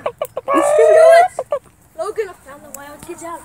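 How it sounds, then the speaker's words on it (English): A chicken clucks and squawks loudly up close, with one long drawn-out call followed by shorter broken clucks, while people talk and shout nearby outdoors. "It's a chicken, sir. It's a chicken."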